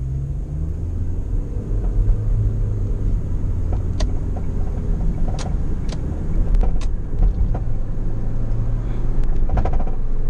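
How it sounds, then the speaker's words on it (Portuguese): A car with its original stainless steel exhaust and a 3-inch tailpipe rumbles loudly as it pulls away, a deep steady roar rising slightly toward the end, with a few faint clicks over it. "a gente vai fazer uma arrancadinha com barulho original"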